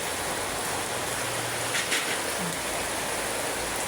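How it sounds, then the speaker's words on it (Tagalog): Heavy rain pours down steadily outdoors, a loud, even hiss of water on surfaces with no let-up, while a faint low voice hums briefly underneath. "Yan, lakas ng ulan, no."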